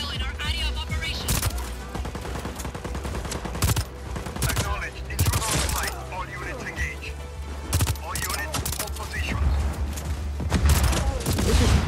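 Weapon fire in Just Cause 4 crackles in rapid bursts and heavy booming shots, loud and continuous, with a voice speaking in between.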